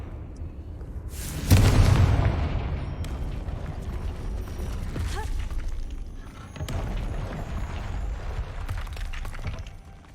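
Confringo fire spell in Hogwarts Legacy, a sudden loud blast of a fiery explosion that swells, then rumbles and crackles away, followed by further clattering impacts and game sounds.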